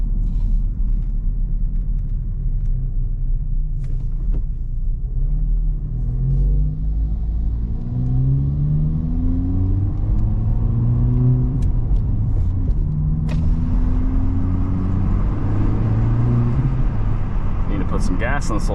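A Honda Civic Type R FL5 drives along with a steady low engine rumble and road drone, rising through several gear pulls as it accelerates, heard from inside the car while a person talks over it.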